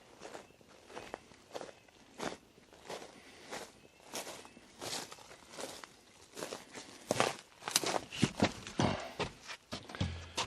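Steady footsteps crunch along outdoors around a cabin property, close by and evenly paced, growing a bit louder and quicker toward the end, with faint rustling around them.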